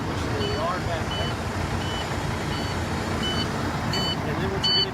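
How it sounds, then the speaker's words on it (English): A low air pressure alarm beeps inside a truck cab during an in-cab brake inspection, a short, high, repeating tone that sounds faintly over a steady engine rumble. "make sure you have enough air pressure that that alarm that just went off goes off"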